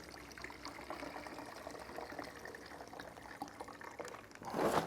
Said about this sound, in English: I'm gonna take and drain the juice into the fat separator.